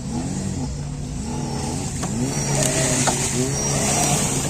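An off-road vehicle stuck in mud on an off-road course, its engine revving continuously with rising and falling pitch, loud and close throughout.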